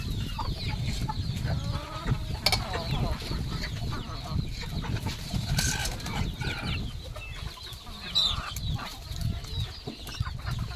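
Desi Gavran chickens, roosters and hens together, keep up a continuous clucking chorus on a farm, with a brief burst of wing flapping and a background hum of flock noise.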